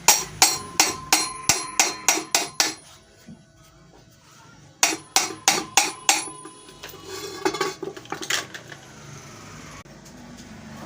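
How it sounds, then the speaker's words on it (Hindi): A hammer lightly taps a steel punch to drive the rotor plate out of a pedestal fan motor, in two quick runs of about ten evenly spaced metallic strikes each, followed by scattered fainter taps and handling clatter. "ये हमारे पास सुम्बा है और हथौड़ी है, इससे हम हल्की हल्की चोट लगाएंगे"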